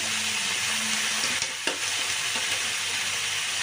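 Spring onion stalks sizzle in a frying pan with tomatoes, a steady loud hiss with a brief stir clatter midway and no voices.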